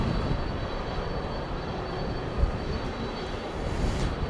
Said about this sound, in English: Coming in from the Motor City, an Airbus A320.